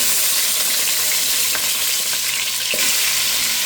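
Chicken pieces frying in hot oil with ginger, producing a steady, loud broadband sizzle throughout, with a brief clatter of stirring near the end.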